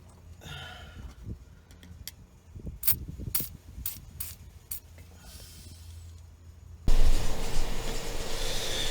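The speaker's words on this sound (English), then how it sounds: "Now you know shit got real if I had to bust out the air compressor." Air compressor kicking on in a garage during transmission fluid and filter work on a 2013 GMC Sierra 1500, a sudden loud steady motor drone after several seconds of sporadic metallic clanks and tool handling.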